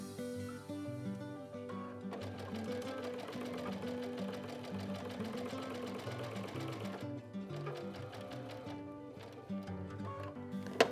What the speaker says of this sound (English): And now sew the center seam